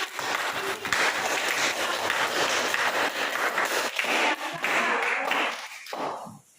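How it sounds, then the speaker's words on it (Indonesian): Steady applause from a classroom group fills the room for several seconds, a dense patter of many hands clapping that fades out at the end. "Kita kasih aplaus untuk kelompok 2 ya."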